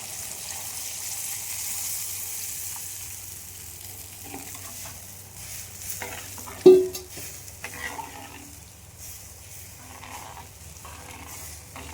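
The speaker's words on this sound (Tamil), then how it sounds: "அடுத்து நம்ம புளி கரைசல் தான் ஊற்ற போகிறோம்." Tamarind solution poured into a pan of sautéed onion and spice base for a Tamil fish curry, with steady sizzling and frying throughout and one brief louder splash of liquid hitting the hot pan.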